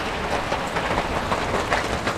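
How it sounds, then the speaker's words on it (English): Steady rain pours down on a homestead, a dense continuous hiss of falling water and runoff with no pauses, fairly close and loud throughout. "Look at this rain."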